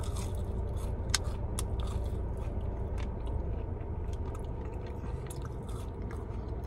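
Someone up close bites and chews a waffle fry dipped in ketchup, giving soft crunching and mouth sounds over a constant background hum. No one speaks.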